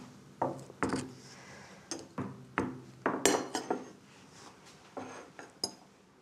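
A knife cuts into a piece of Fourme d'Ambert blue cheese on a board. Around a dozen close, sharp knocks and clinks come at an uneven pace with no talking.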